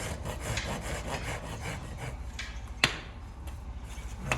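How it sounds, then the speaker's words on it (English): A farrier rasping a horse hoof to level and smooth it, giving repeated rough scraping strokes close by, with one sharp knock partway through and no talking. "I'll take my rasp, and this just gets everything nice and even and level and smooth."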